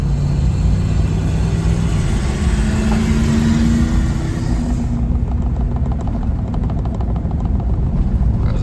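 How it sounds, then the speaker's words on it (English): An old truck engine with a faulty exhaust runs loud and close on a Tennessee back road, a steady rough droning rumble with a throaty rattle that carries on without pause, a change in tone partway through. "Noisy old truck."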